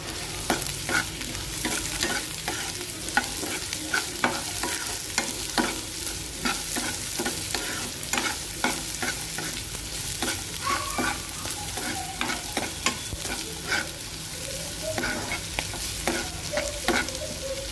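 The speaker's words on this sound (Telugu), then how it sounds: "ఆనియన్ అయితే ఫ్రై అయిపోయింది." Onions and green peas fry in a pan for oats upma, a continuous close sizzle with frequent rhythmic scrapes and taps of a spatula stirring throughout.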